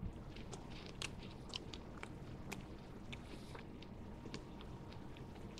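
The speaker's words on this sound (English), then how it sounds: "you get little sensations that you're like busting little rocks in your mouth" Close, quiet chewing of a sprinkle-topped Kit Kat wafer, with sharp little crunches of sugar sprinkles scattered irregularly throughout, like hard tiny bits breaking between the teeth.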